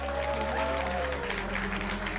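Applause sounds as a steady, full crowd wash, mixed with sustained musical tones and a low hum, for a virtual tribute to a game studio.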